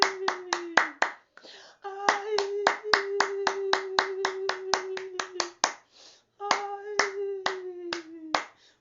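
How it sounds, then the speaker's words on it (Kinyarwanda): A church congregation claps in praise of Jesus, sharp unison hand claps in quick, regular bursts with brief pauses between, while a sung or chanted voice carries on over them. "Tumushimire, tumukomere amashyi."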